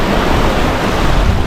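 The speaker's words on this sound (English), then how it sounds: "Just out here with the wind and the waves" Steady rush of wind and ocean waves around a sailboat cruising through the Mona Passage in the Atlantic, a loud continuous roar with no voices.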